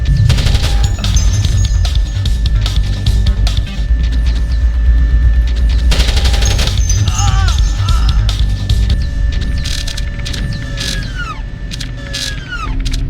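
Turret gunfire in Splinter Cell: loud bursts of rapid automatic fire and clattering impacts keep going over a continuous game background hum, with electronic tones and mechanical sounds mixed in.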